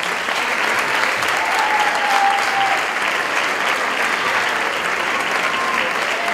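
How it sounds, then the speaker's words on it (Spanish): An audience at a tribute ceremony breaks into sustained, dense applause that holds steady for several seconds, with faint voices mixed in. "Un aplauso para ella,"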